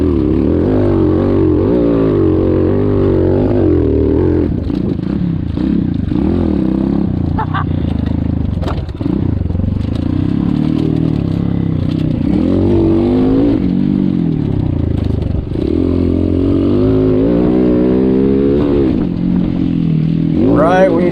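An X-Pro Storm 150 DLX dirt bike races in an outlaw enduro, its small engine buzzing close and loud with repeated revving rises and falls as the throttle opens and closes, with talk over it.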